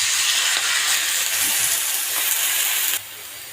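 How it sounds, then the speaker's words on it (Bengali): Shrimp frying in a pan with already-fried onion, giving a steady loud sizzle and hiss that drops suddenly to a quieter sizzle near the end. "চিংড়ি মাছটা একটু ভেজে নেব"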